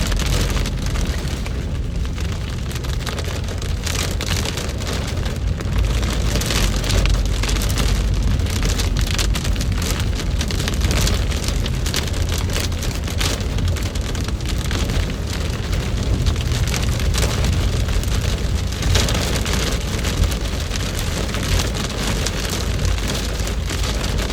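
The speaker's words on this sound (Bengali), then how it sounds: "বৃষ্টির পরিমাণটা অনেক।" Heavy rain pours down steadily in Jeddah, Saudi Arabia, a dense, continuous roar of drops hitting surfaces, loud and close with no voices.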